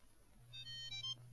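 A phone ringtone chimes in a bright repeating electronic pattern for about a second over a steady low hum, quiet and close, with no talking.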